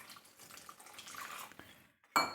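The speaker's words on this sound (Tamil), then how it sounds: "கொஞ்சோண்டு தண்ணி விட்டுக்கலாமா?" A small splash of water poured into a pan of sautéed onion mixture for a broken-egg thokku, with soft clattering of cookware, a brief pause, then a sharp bright splash at the end.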